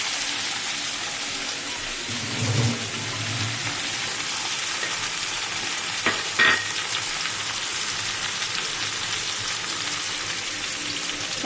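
Pumpkin and eggplant with onion frying in a pan for a fish-head chorchori, a steady soft sizzle running throughout with a couple of brief stirring scrapes.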